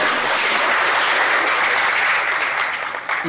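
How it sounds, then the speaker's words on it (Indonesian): Loud, dense applause from the audience at a press conference for a surfing competition fills the clip steadily from start to finish, with no talk over it. "Tepuk tangan nih."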